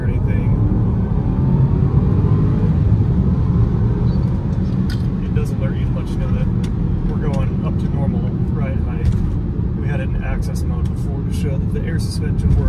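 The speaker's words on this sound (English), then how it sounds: "Give the beans here and show that there's no hesitation in the acceleration or anything" Range Rover L405 accelerating hard on the road, its engine and road roar a loud, steady wash held throughout, with faint higher clicks and rattles scattered over the top.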